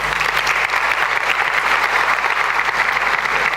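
Steady, dense applause from a developer-conference audience, many hands clapping at once in a large hall, continuous and fairly loud with no talking over it.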